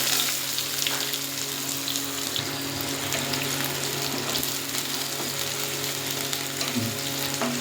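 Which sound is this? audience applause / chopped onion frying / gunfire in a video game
chopped onion frying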